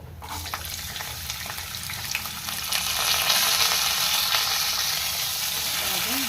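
Peanuts and carrot pieces fry in hot oil for semiya upma, giving a steady, close sizzle that grows louder partway through, with light stirring and a brief watery trickle near the end.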